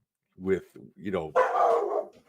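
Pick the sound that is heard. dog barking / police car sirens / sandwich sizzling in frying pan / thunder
dog barking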